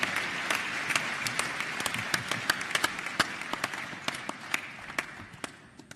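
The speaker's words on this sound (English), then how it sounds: "Let's give you another round of applause, ladies and gentlemen." Audience applause at the Africa Youth Connekt Summit: steady clapping from a large crowd with crisp individual claps standing out, sustained throughout and slowly fading toward the end.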